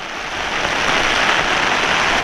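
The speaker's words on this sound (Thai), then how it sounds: "ฝนมา ตอนนี้ก็ตึกฝนตึกลมน่ะตกเกือบชั่วโมงละยังไม่หยุดเลยนะครับ" Steady rain pours down outdoors at a natural fishing spot, a dense broadband hiss of drops hitting surfaces that holds nearly constant for a couple of seconds with no voices.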